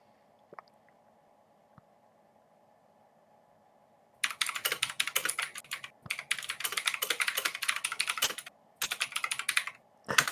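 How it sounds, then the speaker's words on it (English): Typing on a computer keyboard, quiet at first with a few isolated clicks, then bursts of rapid, close key clatter with brief pauses between runs, no voices. "I'm just typing something in another chat"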